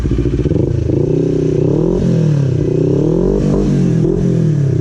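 A Kawasaki NK400 motorcycle engine revs loudly and up close, its pitch rising and falling in repeated throttle blips over a steady idle rumble.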